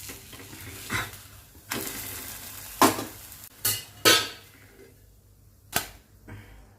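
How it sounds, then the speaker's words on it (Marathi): Corn paratha made from fresh corn kernels cooking on one side in a pan: a low sizzle broken by several sharp spatula scrapes and taps at uneven intervals, close by, with no talking. "आता एका बाजूने आपण 2-3 मिनिट भाजून देऊयात"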